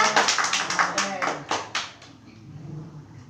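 Classroom clapping for a student group, a burst of quick, close hand claps with a voice talking over them, tapering off into quiet room noise after about two seconds.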